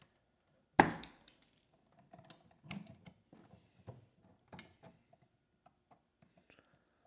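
Black electrical wire having its insulation stripped during an outlet replacement: a sharp snap followed by scattered small clicks and scraping ticks, close and quiet, with no talking.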